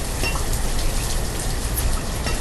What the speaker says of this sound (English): We have a late rain coming in, but that won't be a problem at all.